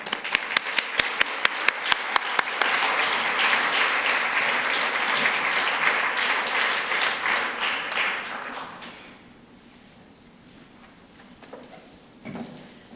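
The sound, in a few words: audience applause welcoming author Rainbow Rowell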